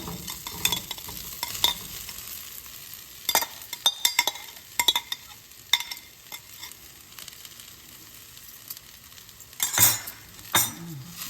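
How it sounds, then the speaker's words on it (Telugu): Bitter gourd pieces tumble into a frying pan with browned onions and get stirred, bringing a steady sizzle broken by several sharp scrapes and clinks of a metal spoon against the pan, with no one talking. "ఇందుట్లో ఈ కాకరకాయలు వేసేద్దాము."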